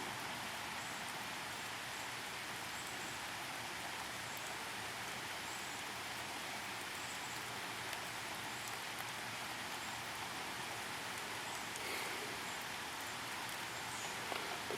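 Soft, steady rain hisses evenly in the background, a faint continuous patter with no voices.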